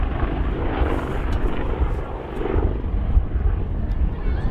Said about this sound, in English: Nice to see a helicopter